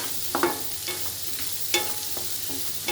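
Corn chevda cooks in a pan under a soft continuous sizzle, with a few light scraping and tapping strokes of the stirring spoon, no voice.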